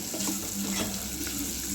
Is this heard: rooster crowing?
no